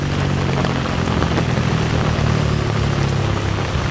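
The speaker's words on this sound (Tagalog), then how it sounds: "Lakas ang ulan." Heavy rain pours down by the Marikina River, a loud, dense, continuous hiss of drops hitting surfaces nearby, with a low rumble underneath and no voices.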